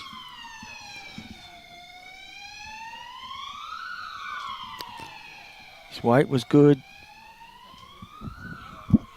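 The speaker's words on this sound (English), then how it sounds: "as we get another ambulance" An ambulance siren wails in long rising and falling sweeps throughout, steady and fairly prominent, passing during a multi-disability sports championship event while a commentator talks over it.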